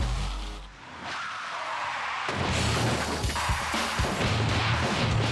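A car brakes hard on a rural North Carolina highway at night, a low engine rumble giving way to a loud tire squeal and then the strained whine of the engine reversing, close and continuous.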